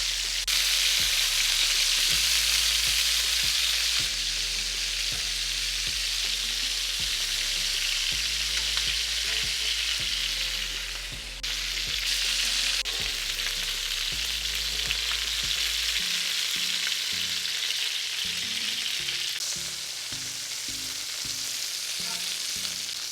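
Chicken searing and frying in a pan, heard as a constant, steady sizzle and crackle of hot fat throughout, close and moderately loud, with low background thumps and no voices.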